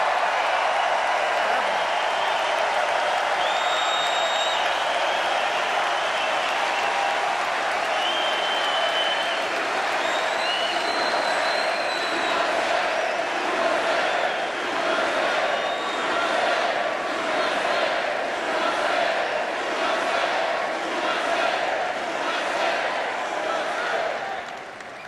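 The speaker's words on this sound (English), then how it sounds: "Boy, this crowd has a lot of enthusiasm." A large political rally crowd in Green Bay cheers and applauds continuously, a dense sustained roar of clapping and shouts with whistles, heard from within the arena.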